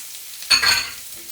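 Cumin seeds and bay leaves fry in a pan, giving one brief close burst of sizzling and stirring that fades quickly.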